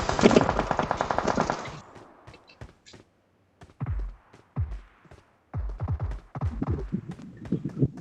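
Gunfire in the battle royale game PUBG on the Miramar map: a dense burst of automatic fire, then scattered single shots and short bursts at varying distances, some near and loud, others faint.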